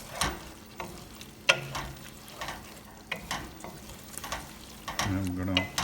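Aloo gobi frying on high heat, with spoon stirs scraping the pan in irregular bursts over a steady low sizzle, close and moderately loud, with no voices.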